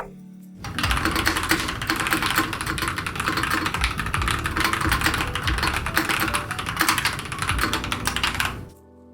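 Fast typing on a mechanical keyboard with red switches, close and clear: a dense run of clacking keystrokes that starts abruptly after a quiet moment and stops cleanly near the end, with no talking.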